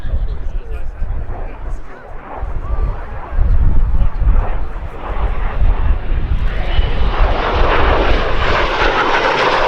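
Aircraft flying at the Duxford summer air show, a propeller engine roar that builds and grows louder and brighter as it passes, with a commentator's voice talking over it.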